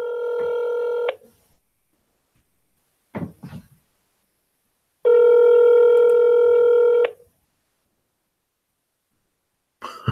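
A telephone tone plays loud and close while a call is placed to Las Vegas: two long, steady tonal beeps with short clicks and handling noise between them.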